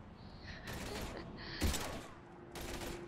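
Bursts of rapid gunfire in the video game Mass Effect 3 come in three separate volleys, with a mechanical clack in the middle, at a moderate level over a low background hum.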